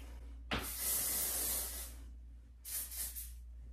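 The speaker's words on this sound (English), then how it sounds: "I forgot to spray it" Two hissing bursts of an aerosol hair spray can, a longer one and then a shorter one, close up over a low steady hum.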